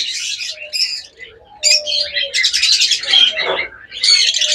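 A pair of caged pet birds call in quick bursts of chirps, squawks and short whistled notes, loud and close, with no one speaking.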